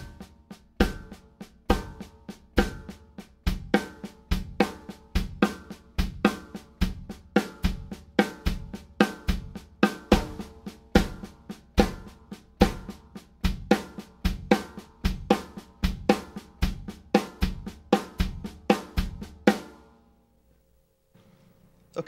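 Drum kit accent exercise on bass drum and hi-hat, a steady stream of close, punchy strokes with regular louder accents for about twenty seconds before stopping, no talking.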